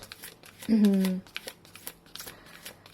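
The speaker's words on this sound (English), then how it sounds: "let's begin your reading with some oracle cards that I will pull out" Oracle cards shuffled by hand at a reading, a brief burst of riffling and rustling lasting about half a second, followed by soft faint handling noises.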